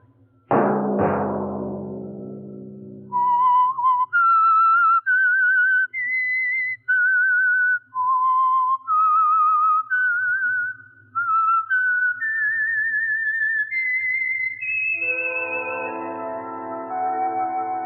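A lone whistler carries the theme tune of the radio mystery show The Whistler: a rising, wavering melody of sustained, clear notes. It starts after a short orchestral chord and ends under swelling orchestral music.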